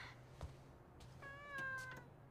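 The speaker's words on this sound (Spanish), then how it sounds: "Maggie, tu gato es negro" A cat meows once, a short tonal call in a quiet indoor room with low background hum and a few faint knocks, no talking.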